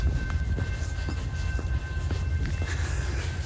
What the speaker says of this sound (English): There's a train about to pass me.